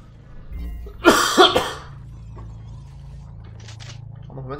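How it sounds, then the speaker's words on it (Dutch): A person playing a video game lets out a quick pair of coughs close to the microphone, over a low steady background hum. "Op het moment om te gaan hoesten."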